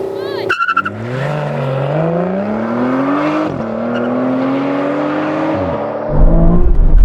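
Aston Martin V12 cars launching off the line in a drag race, engines revving high with rising gear-by-gear pitch sweeps and tyre scrabble, loud and close for several seconds, a sharp shift near the end as another engine roars in.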